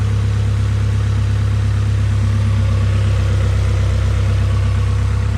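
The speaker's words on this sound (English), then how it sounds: "I think that's just the belt making noise" Idling Mazda Miata engine with a noisy belt, a loud, steady low drone with a constant rumble, heard up close with no voices.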